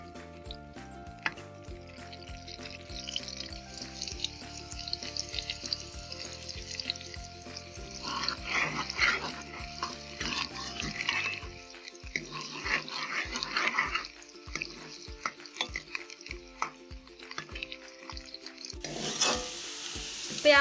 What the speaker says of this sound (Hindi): अब हम इसमें प्याज डालेंगे। प्याज को अब हम ब्राउन कर लेंगे।